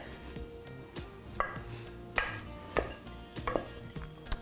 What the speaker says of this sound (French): on va tout mélanger